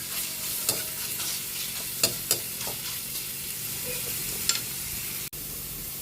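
Garlic sizzling in a hot pan, a steady frying hiss with a few sharp scrapes of a stirring utensil, fairly close and alone without speech.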